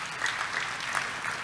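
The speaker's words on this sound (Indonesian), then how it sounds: "Tepuk tangan dulu buat Tuhan Yesus." A church congregation claps together in a short, steady burst of applause during a sermon, many hands blending into an even, moderately loud patter with no voices over it.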